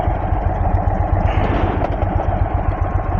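An Indian Sport Chief motorcycle engine runs steadily up close, a dense low rumble with a slight rise in throttle partway through, heard alone without talk.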